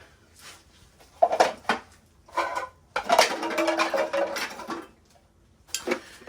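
An Army surplus metal mess kit is pulled apart and opened, giving several bursts of tinny metallic clattering and clinking with short pauses between, fairly close and moderately loud.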